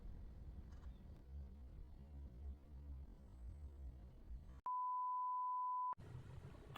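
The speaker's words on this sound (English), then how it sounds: "This notification." A phone notification beep: one steady electronic tone held for just over a second, cutting sharply through a dull background rumble.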